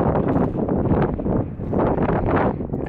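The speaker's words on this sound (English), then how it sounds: "It's super windy." Strong seaside wind at Lytham near Blackpool buffets the microphone in a loud, continuous roar with gusty swells, with no talking.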